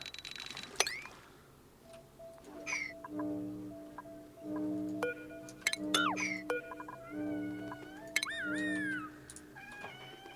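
A pet cat meowing repeatedly indoors, several drawn-out wavering meows close by, spread over a backdrop of soft game music tones.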